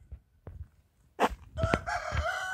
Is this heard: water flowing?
no